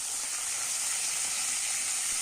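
Malabar spinach fruits fry in mustard oil with dried chilli, black cumin and garlic, giving a steady, close, bright sizzle that holds evenly throughout with no talking.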